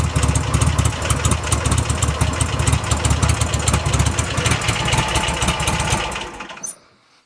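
A Buell motorcycle engine idles steadily after an oil change, a loud, close, rough mechanical rumble with a fast even pulse, running alone until it cuts off sharply near the end.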